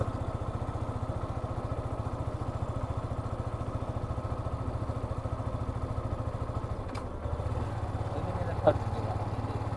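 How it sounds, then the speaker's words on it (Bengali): A motorcycle rides along the sandy sea beach at Cox's Bazar, its engine a steady, close, pulsing drone that holds throughout and swells briefly near the end. "সমুদ্রের কিনারা ঘেসে বাইকে আমরা রওনা দিছি"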